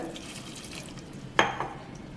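Water is poured into a pressure cooker over sprouted green gram, a brief splash near the middle against quiet kitchen background.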